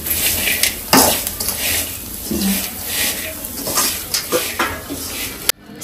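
A spoon scrapes and clanks around a pan of fried bitter gourd, stirring in repeated strokes with light sizzling underneath and a sharp knock near the end.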